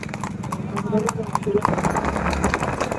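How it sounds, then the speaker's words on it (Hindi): Horse hooves clip-clop in a quick, steady rhythm during a ride, close and fairly loud, with voices talking over the hoofbeats. "और ये है बादशाह घोड़ा।"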